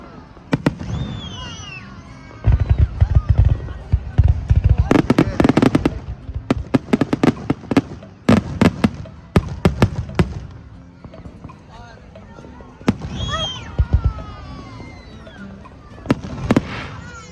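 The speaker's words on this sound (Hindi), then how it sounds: "ब्रॉडली बीच जिस पे हम आए थे उसका भी स्टार्ट हो चुका है आतिशबाजी" Independence Day fireworks explode over Broadly beach in repeated crackling bangs and sharp pops, some in rapid clusters and some spaced apart, while people talk and exclaim nearby.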